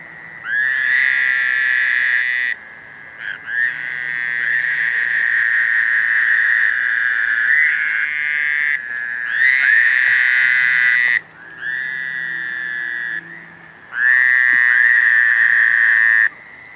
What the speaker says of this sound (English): As it got darker, as it got later, more and more toads joined the chorus.